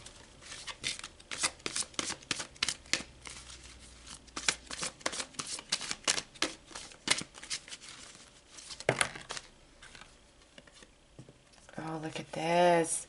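Tarot cards are shuffled by hand in repeated riffling bursts, close and soft, with papery slaps and pauses, ending in a brief voice.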